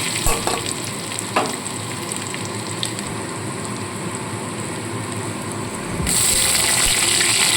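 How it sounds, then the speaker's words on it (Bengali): Cut vegetables are stirred in a pan with panch phoron and ginger, first with light scraping and clinks, then a louder, steady frying sizzle as the vegetables hit the hot oil. "ফোড়নটা একটু নাড়াচাড়া করে নিয়ে সমস্ত কেটে রাখা সবজিটা আমি এখানে অ্যাড করে দেবো"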